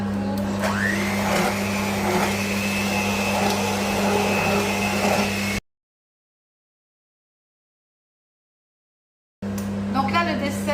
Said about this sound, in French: Je vais mixer ma courge.